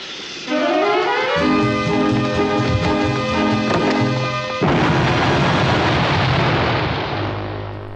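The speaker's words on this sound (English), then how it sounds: "Some days you just can't get rid of a bomb." A bomb explodes in the Star Fox Assault video game, a sustained booming rumble that swells and rolls on for several seconds. It is loud and dense, with game music tones layered over it and no talking.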